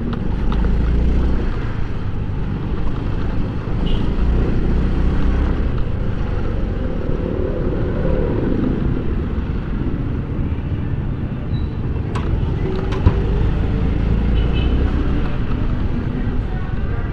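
A steady wash of road traffic and engine rumble is heard while riding a Honda Fazzio scooter through congested streets. It holds throughout, loud and close, with a few faint sharp clicks.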